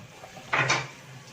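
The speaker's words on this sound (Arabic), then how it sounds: "يلا بينا بقى نسقط الباميه ودقه التومه" Okra tipped into a pot of cooked meat with crushed garlic for an Egyptian bamia stew, a brief clattering rustle of pods landing against the pot, close and fairly loud, then quiet.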